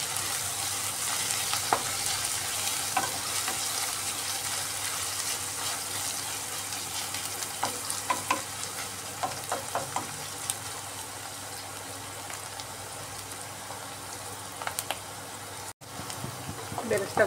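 Sliced onions sizzle and fry in hot oil on a gas flame at full heat for egg biryani, a steady bright crackle with repeated scraping stirs of a spatula and a cooking voice talking over it.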